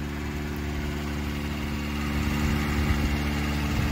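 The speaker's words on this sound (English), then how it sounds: "I just started it, so that's why it's revving high." A 1990 Subaru Sambar KS4 4x4 mini truck engine runs at a fast, high cold-start idle, steady and close with a slight rise partway through, alone without talk.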